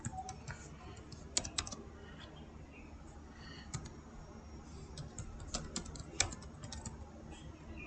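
Keyboard typing while Python code using the json module is written, with quiet, irregular key clicks running throughout against a low steady background hum; no speech.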